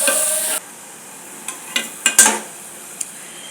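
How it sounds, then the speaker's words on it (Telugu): Chicken with chilli powder and turmeric frying in a pan for a drumstick chicken curry: a loud sizzle that cuts off, then several short scraping stirs and clinks of a spoon against the pan. "ఇప్పుడు వేసేసి కొద్దిగా ఫ్రై చేస్తాను"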